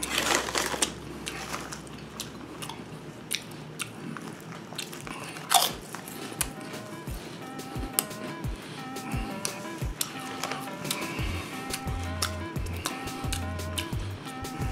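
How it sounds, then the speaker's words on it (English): Lay's Fried Green Tomato potato chips being eaten up close: sharp crunchy bites followed by steady chewing crunches and lip smacks, intimate and fairly quiet. "I smack when I eat too."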